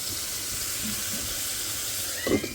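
Onions frying in hot oil in a home kitchen, a steady loud hiss and sizzle running throughout with a brief louder spatter near the end.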